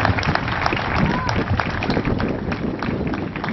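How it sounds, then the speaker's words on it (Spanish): An audience applauds at the inauguration of the 29th cultural festival in Ciudad Fernández, a loud, continuous wash of clapping close by with some voices mixed in. "hoy merecen un gran aplauso"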